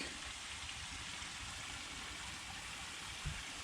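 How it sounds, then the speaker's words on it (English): Waterfall running into a large concrete pond gives a steady, faint, even rush of splashing water with no breaks. "And then we got the one waterfall running."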